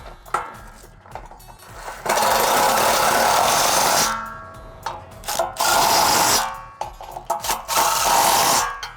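An impact wrench tightens 19mm bolts on an aluminum Peterson electric sawmill, firing in loud, close buzzing bursts of a couple of seconds each with short pauses and clanks between them.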